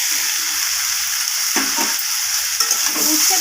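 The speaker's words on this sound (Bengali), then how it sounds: "এগুলোকে আবারও সব কিছুর সাথে কষিয়ে নেব" Fried bitter gourd and vegetables are stir-fried together in a pan, giving a continuous sizzle broken by scraping, clattering spatula strokes, close and fairly loud, without any speech.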